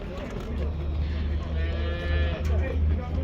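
Cattle at a livestock market in Kyzylorda give a long, loud moo that rises over a busy background of market chatter and low rumble.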